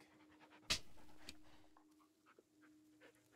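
A dog pants softly in a series of quick, rhythmic breaths, close but faint, after a single sharp knock near the start.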